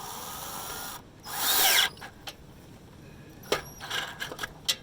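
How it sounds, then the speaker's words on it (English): Ryobi cordless drill during a rusted car exhaust repair, whirring in one loud burst of under a second, followed by scattered clicks and knocks of handling in a quiet space. "Trusty Ryobi cordless drill"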